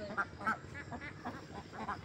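Ducks quack faintly by water in the evening, several short nasal calls in an uneven series at a moderate distance over quiet background noise.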